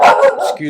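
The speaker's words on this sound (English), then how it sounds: "my dog likes to bark." A dog barks a few quick, loud, close yaps in a short burst, with a voice speaking briefly over it.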